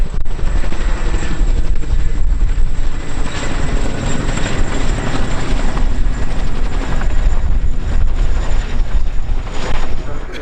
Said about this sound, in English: the Chinook is gearing up to be our next display item